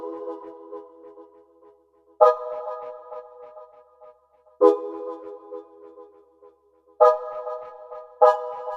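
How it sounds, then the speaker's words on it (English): Synth brass pipes play as an accent sound in a club track production: four sharp stabbed chords recur at even intervals, each with a bright attack and a decaying, sustained tail, clear and alone. "I have this brass pipes."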